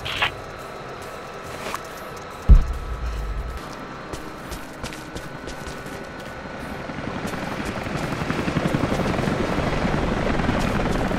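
A helicopter in the video game Rise of the Tomb Raider, its rotor thrum running throughout and building louder toward the end, with a sharp thud early on and no speech.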